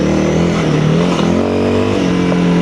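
A Honda CRF300L dual-sport motorcycle accelerating off road, its engine rising in a smooth, steady drone, loud and close throughout with no talking.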